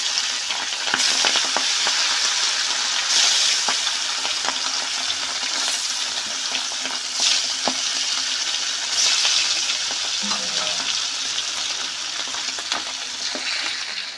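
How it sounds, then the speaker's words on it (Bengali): Hilsa fish pieces frying in mustard oil in a pan, a steady loud sizzle and crackle running throughout with occasional clinks and stirring sounds, no talking. "বাকি মাছগুলোও একই রকমভাবে ভেজে নেবো"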